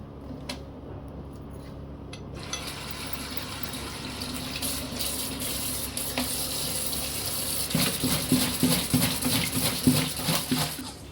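Water runs from a kitchen tap as dishes are washed by hand, a steady splashing stream that grows louder and more clattery midway, with faint sounds of dishes being handled.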